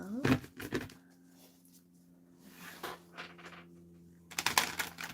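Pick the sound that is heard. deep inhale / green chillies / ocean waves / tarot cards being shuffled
tarot cards being shuffled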